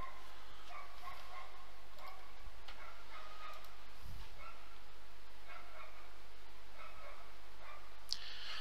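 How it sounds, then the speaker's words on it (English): A dog barking outside, heard as several faint, distant barks spread across a steady background hum with no one talking. "there was a dog barking outside"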